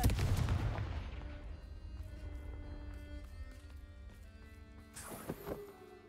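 A Confringo fire spell blasts off in Hogwarts Legacy, a loud booming burst that rolls into a ringing, fading tail, followed by a second sharp magical crack and shimmer near the end.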